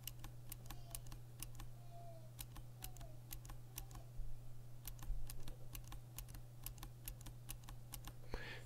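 Razer Green clicky keyboard switches being typed on: a steady stream of crisp, evenly spaced clicks over a low constant hum, close and moderately quiet, with no talk.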